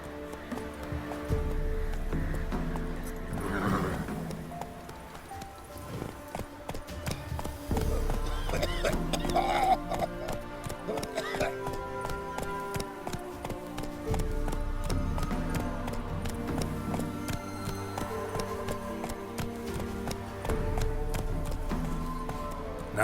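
Hooves of Roach, Geralt's horse in The Witcher 3, clip-clop at a steady gallop throughout, layered under dense game music and ambient effects, fairly loud and continuous.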